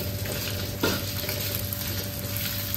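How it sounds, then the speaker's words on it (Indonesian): Pork luncheon meat sizzles steadily in a hot frying pan, a close, continuous crackle with a brief scrape of stirring partway through, no voices. "Kita goreng supaya nanti pork luncheon ni dia tidak hancur."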